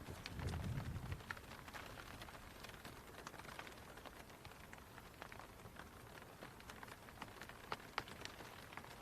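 Rain falling steadily on a golf course during an amateur championship match, a dense continuous patter of drops at moderate level throughout, with no talking.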